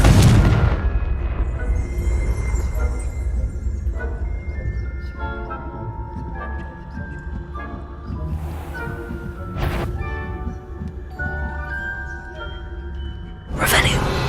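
A Confringo fire spell bursts into an explosion in the video game Hogwarts Legacy, starting with a loud booming blast that decays into rumbling and tinkling chimes, followed by another sharp burst near the end, with a voice heard over it.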